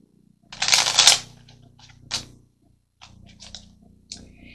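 Tarot cards being shuffled and drawn close up, with a quick riffle burst, then several crisp, scattered snaps and taps of cards laid down, and no one talking.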